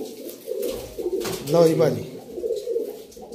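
Teddy pigeons in a breeder's loft of paired birds coo in a low, throaty burble, with someone talking over and around them.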